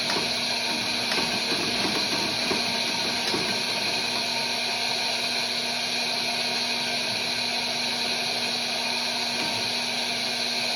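A refurbished Landis 16 sewing machine stitches continuously, a steady, dense mechanical hum with a fine rapid clatter underneath, close up and uninterrupted throughout.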